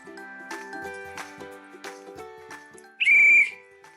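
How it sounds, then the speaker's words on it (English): A single sharp, shrill whistle blast rings out loudly for about half a second, following a stretch of soft melodic background music. "Coach Hyatt blew her whistle"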